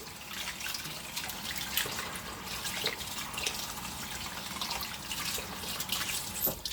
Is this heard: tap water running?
yes